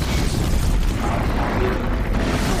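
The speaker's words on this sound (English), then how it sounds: "Flamethrowers!" A flamethrower firing in Horizon Zero Dawn, a continuous loud roaring whoosh of flame with rumbling low body, sustained without a break throughout.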